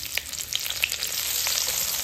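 Onion frying in oil with garlic for a desi mangur fish curry, giving a dense, steady sizzle with light crackles and a faint stir, close-up and unaccompanied by voices.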